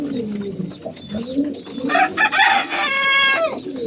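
Several birds call close together: low soft cooing of pigeons mixed with a rooster crowing loudly partway through.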